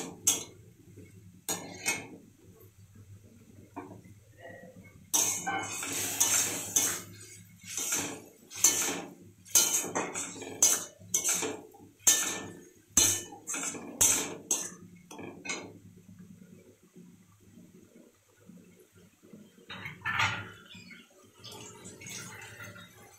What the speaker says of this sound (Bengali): আর মশলাটাকে ভালো করে কষিয়ে নেবেন